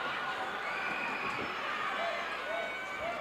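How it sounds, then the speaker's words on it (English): Wrestling crowd at a Houston arena screaming and cheering in a continuous roaring wash of voices, loud and sustained. "this crowd is screaming"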